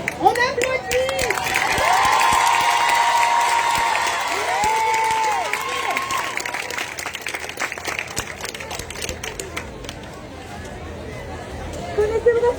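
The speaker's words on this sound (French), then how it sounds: "On applaudit." An audience at a gay pride rally cheers and applauds loudly and steadily, with crowd chatter mixed in and a voice or tonal sounds rising above it, before the noise fades to murmuring.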